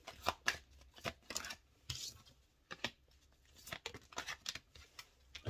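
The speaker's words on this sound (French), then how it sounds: "Toutes les cartes tombent." Tarot cards dropping and slapping down while being shuffled, a series of irregular close card flicks and soft taps with short rustles between them, fairly quiet.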